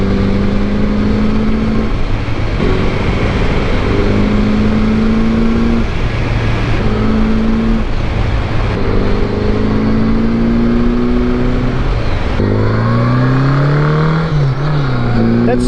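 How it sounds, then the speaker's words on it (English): A motorcycle engine running while riding at about 25 miles an hour, a loud steady drone with gear-like pitch rises and shifts, close and continuous throughout. "this bike just sounds and rides so well."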